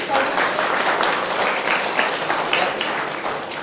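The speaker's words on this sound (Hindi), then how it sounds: "जोरदार तालियों।" A crowd at a political speaking event applauds loudly and steadily, a dense wash of clapping that holds at full strength for several seconds with some voices mixed in.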